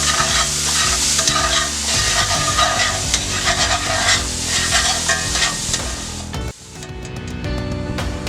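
Minced garlic browns in a frying pan with a loud, steady sizzle. A utensil stirs and scrapes through it, and the frying noise drops sharply near the end before resuming. Nobody speaks.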